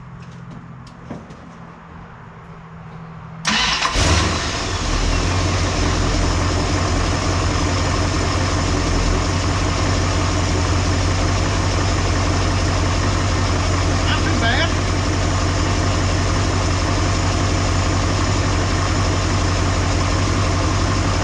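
A 1958 Dodge Coronet's engine catches after a quieter stretch and then idles loudly and steadily up close for the rest of the time, carburetor freshly adjusted, with no speech over it.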